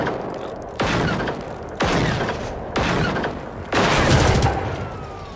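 Gunfire in the video game Generation Zero, heard as four loud, close bursts of sustained shooting about one second apart, each cutting in sharply and ringing on, with no talking.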